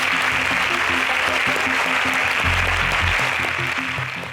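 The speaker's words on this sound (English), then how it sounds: "A round of applause for them, please." Studio audience at an agricultural science quiz contest applauds departing contestants, a continuous loud wash of crowd clapping with a low musical sting partway through.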